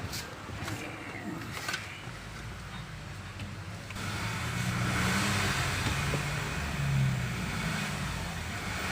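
A Skoda Laura TSI engine idles steadily without stalling, a continuous near hum that grows louder and fuller partway through and then holds even.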